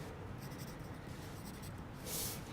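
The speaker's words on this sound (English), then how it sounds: "You are going to start by putting your name on the top of your paper right up here" Pencil or marker writing a name across the top of a sheet of paper during an art class, soft scratchy strokes in short bursts with a brief louder scrawl near the end, close and quiet, no talking.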